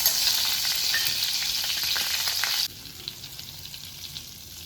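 Cumin seeds hit hot oil in a kadhai and sizzle loudly and continuously, then the hiss drops abruptly to a quieter, steady frying crackle partway through.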